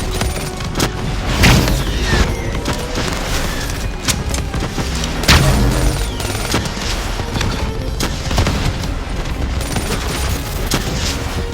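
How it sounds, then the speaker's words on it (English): Missiles explode in a loud, dense barrage during a firefight in Call of Duty: Black Ops III, with heavy booms and rattling gunfire filling the whole stretch and two stronger blasts standing out. "missiles incoming!"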